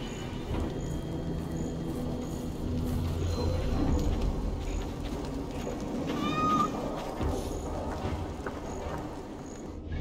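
A cat meows aboard a Viking longship in Assassin's Creed Valhalla, a brief rising-falling cry heard once midway through a steady background of game ambience and low rumbling.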